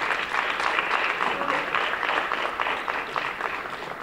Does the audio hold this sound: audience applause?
yes